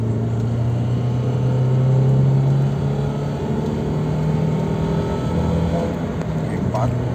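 A motorcycle fitted with a Blackcore part pulls away and shifts up through second and third gear, a steady engine drone and road rumble heard from the rider's position, with someone talking over it.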